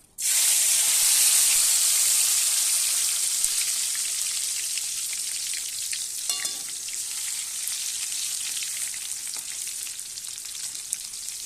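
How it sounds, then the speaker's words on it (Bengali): Garlic drops into hot oil with a bay leaf and fries with a sudden loud sizzle that bursts in at once, then settles into a steady, slowly fading crackling hiss, with a light stir partway through. "রসুন ছেড়ে দিয়েছি তেলের মধ্যে"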